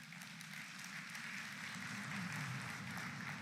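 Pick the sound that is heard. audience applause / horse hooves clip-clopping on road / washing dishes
audience applause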